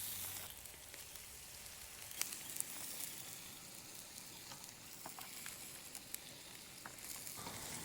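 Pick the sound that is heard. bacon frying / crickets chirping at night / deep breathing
bacon frying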